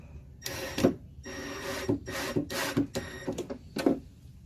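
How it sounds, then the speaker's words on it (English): A screw is driven into a wooden drawer pull with a power drill, heard as several short, close, whirring bursts separated by brief pauses, with no talking. "I first drill the screw in"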